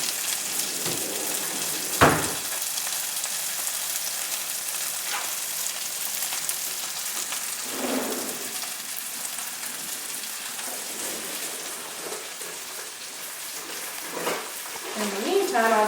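Crab cakes frying in a pan give a constant, rain-like sizzle throughout, with a sharp clatter near the start and occasional pan sounds and rustles over the steady hiss.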